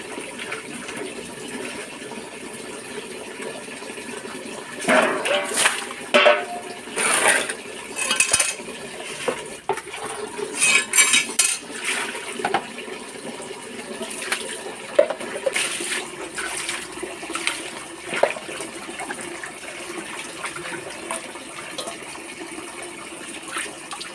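Fish rinsed under a running kitchen tap: steady pouring water with bursts of splashing and a few light clinks, fairly close, with no talking.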